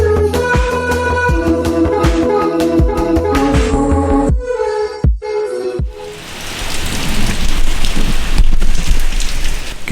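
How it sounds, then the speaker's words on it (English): Steady heavy rain pours at night in Goa near the beach, a loud dense hiss close by, with some music and clattering at the start before the downpour dominates. "Can you hear that rain?"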